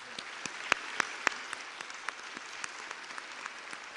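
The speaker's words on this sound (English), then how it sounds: "Give them a nice round of applause" Audience at a Little Rock mayoral forum gives the candidates a round of applause: scattered, fairly quiet clapping with a few sharper individual claps standing out near the start, continuing thinly and evenly throughout.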